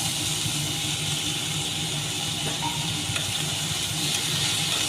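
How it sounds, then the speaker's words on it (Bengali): Potatoes sliced for a Bengali papaya dish fry in hot oil, a steady close sizzle and hiss that runs without break and without voices. "কেটে রাখা আলুগুলো ভেজে নিচ্ছি"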